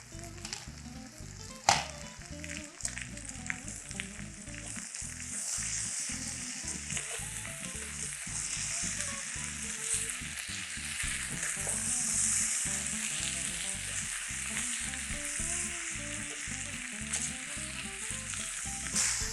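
Food frying in a stainless steel pan on an induction cooktop at medium-high heat, a constant loud sizzle with crackling and occasional scraping of a metal spatula, close and unbroken.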